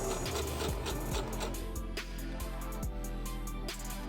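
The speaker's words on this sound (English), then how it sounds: "I like to sew it on the right side at the bottom very edge just to make sure that it's secure." A sewing machine stitching horsehair braid onto the hem of a mermaid prom gown, close and steady mechanical whirring with rapid needle clatter and a few brief changes in speed.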